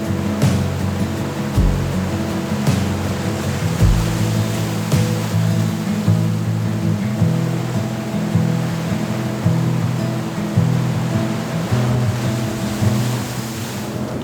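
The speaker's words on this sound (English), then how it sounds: "I've got all the big crashing waves going on behind me" Big waves crash continuously onto a stony beach, a loud, rumbling surf with repeated surges and hiss of water over stones, steady throughout with no talking.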